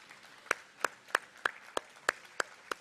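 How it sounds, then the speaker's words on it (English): Slow, evenly spaced handclaps from a small group of people at an architecture competition award ceremony, about nine sharp claps in under three seconds in a fairly quiet room. "please, a round of applause"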